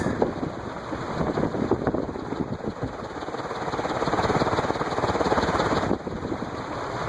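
A Heat Recovery Systems L-356 industrial ceiling fan runs on high, giving a loud, continuous whooshing roar with a fluttering, buffeting rhythm heard up close.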